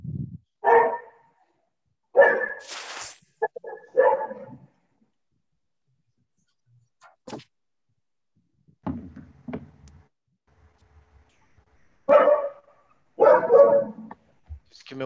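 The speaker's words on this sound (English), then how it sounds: "The dog is barking." A dog barking indoors during an online class, several sharp barks in two bursts separated by a quiet stretch, close and loud, with faint background sounds between them.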